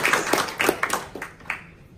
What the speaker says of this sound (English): So let's give a round of applause to those two.